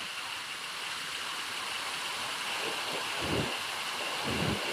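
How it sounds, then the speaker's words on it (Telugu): Rushing rainwater floodwater pours over a tank's overflow weir between hills in a steady, broad roar, with occasional deeper surges swelling near the end. "చాలా బ్యూటిఫుల్గా వరద ప్రవహిస్తుంది"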